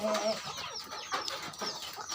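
Chickens cluck and chatter close by in quick, uneven bursts, with a few higher squawks mixed in.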